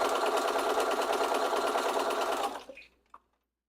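A sewing machine stitches rows of fabric in a steady, continuous run that slows and stops, followed by a faint click.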